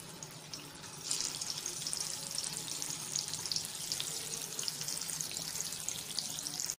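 Cutlets shallow frying in about four spoons of hot oil, a steady hiss and crackle that swells after the first second and holds close and even to the end, with no talk.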